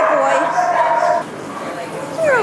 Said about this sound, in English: it's time to groom some stinky puppies